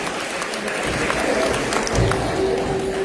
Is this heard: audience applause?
yes